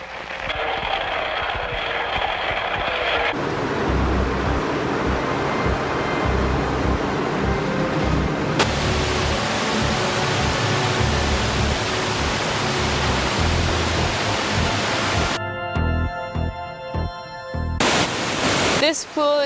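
Water pours at a hydroelectric dam pool, a loud, continuous broadband rush. Its tone shifts abruptly several times, with no voices.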